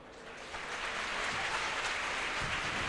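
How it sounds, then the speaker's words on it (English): An audience at a film and comic convention panel in London breaks into applause that swells after a quiet start into steady, dense clapping, fairly faint and with no talk over it. "Please give a fantastic round of applause, please, for Allon Reich."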